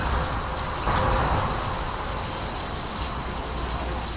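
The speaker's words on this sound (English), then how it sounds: "This is the third time I've come out this morning and it's still raining." Steady, dense rain falls continuously, a loud even hiss of drops hitting surfaces nearby, with no voices.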